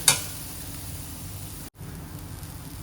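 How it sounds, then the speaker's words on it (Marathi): Grated coconut is sautéed in a pan with a soft, even sizzle and a faint hiss that runs steadily. It is heard close, with a light clink at the start and a brief dropout partway through. "खोबरं थोडंसं ओलसर असतं ना म्हणून परतून घ्यायचं"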